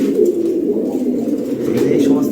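Racing pigeons cooing close by, soft low repeated coos forming a continuous murmur from the flock.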